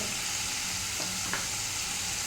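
Tomato masala with salt, turmeric and cumin powder frying in a pan, a steady close hissing sizzle with a couple of soft stirring scrapes, brief and without talk.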